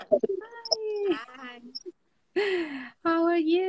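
A house cat meows in several drawn-out, tonal calls, fairly close and clear, with people talking in between during an online live chat.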